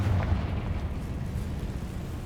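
A Confringo fire spell detonates in Hogwarts Legacy, a dull heavy blast rolling into a sustained low rumble that fades gradually, with no speech.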